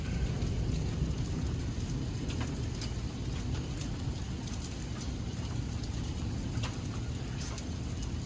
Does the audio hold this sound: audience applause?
no